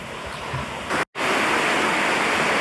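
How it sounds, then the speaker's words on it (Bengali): Heavy rain pours outside in a steady, loud, dense hiss that runs without break apart from a brief cut near one second. "বাইরে প্রচুর পরিমাণে বৃষ্টি হচ্ছে"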